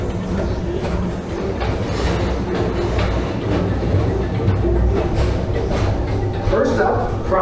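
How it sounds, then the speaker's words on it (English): The Tomorrowland Transit Authority PeopleMover at Magic Kingdom rolls along its elevated track with a steady low rumble and faint clicking, close and continuous, while a narrator's voice talks over it. "Don't worry, your express train keeps on rolling through the future"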